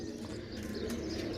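Flying pigeons coo softly on a rooftop, low murmuring calls mixed with a few light chirps over a quiet, hazy background, faint and fairly close.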